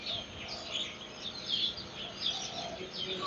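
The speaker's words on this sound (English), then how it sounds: "I am at this bird park and I'm surrounded by storks and other birds as well." Birds call continuously at a bird park among storks and other birds, a dense wash of chirps and tweets at moderate distance.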